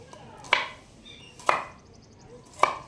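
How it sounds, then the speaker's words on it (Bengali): Knife chopping fresh turmeric into small pieces on a board, three sharp, close chops spaced about a second apart with quiet between, no talking. "হলুদটা কেটে ছোট ছোটো করে নিচ্ছি আগে"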